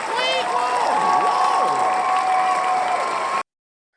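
A steady, loud wash of applause from a sound effect plays during a podcast. Sliding tonal sounds run over the applause for about three and a half seconds before it cuts off abruptly.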